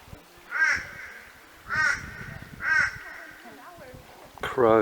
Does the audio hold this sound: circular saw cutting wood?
no